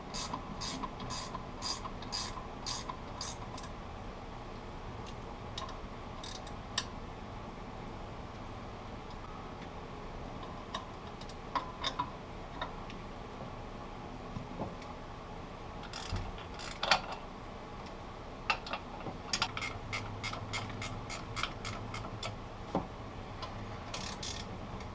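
Ratchet wrench with a 9/16 socket loosening bolts on the AC compressor of a 1972 Cutlass, giving bursts of quick clicking in several runs over a steady background hum.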